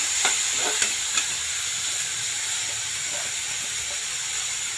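Soaked masoor lentils tumble into a frying pan and are stirred, giving a steady close hiss and sizzle with a few sharp scraping knocks early on; no one talks.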